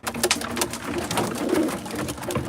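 Racing pigeons coo while being hand-fed a full racing mix: a close, busy flock of soft, throaty burbling calls, with scattered clicks and pecking sounds and no talking.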